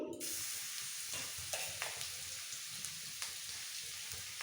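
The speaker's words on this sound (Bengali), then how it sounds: "তেলটাকে খুব ভালো করে গরম করে নিতে হবে এরপর দিয়ে দেবো এর মধ্যে এক চামচ গ্রেট করে রাখা রসুন" Grated garlic hits hot refined oil in a pan for chili paneer, giving a steady bright sizzle with occasional stirring clicks and scrapes, close and continuous for the whole stretch.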